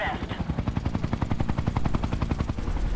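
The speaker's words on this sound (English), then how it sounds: "what's gonna happen to the chopper?" Helicopter in the video game Ghost Recon Future Soldier, a steady rapid rotor chop thudding throughout at close range, loud and continuous with no talk over it.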